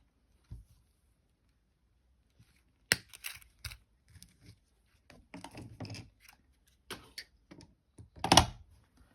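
Thin jewelry wire for a wire-wrapped necklace link is handled and snipped with cutters, giving sparse, sharp metallic clicks and ticks in a quiet room, with one louder snap near the end.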